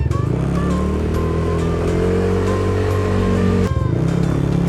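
A motorcycle engine is revved steadily to recharge a weak battery, a loud, close, sustained drone with a brief dip in pitch near the end before it picks up again.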